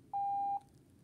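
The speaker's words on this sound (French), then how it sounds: "un bip qui durait un petit peu longtemps, mais qui durait un temps" A single Morse code beep of one unit, a clean steady electronic tone lasting about half a second and then cutting off into near silence.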